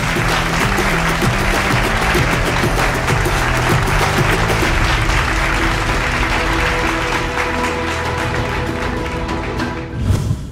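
A crowd at the Behindwoods Business Summit 2024 applauds to welcome a company founder to the stage, loud continuous clapping blended with upbeat music that plays throughout and drops away near the end.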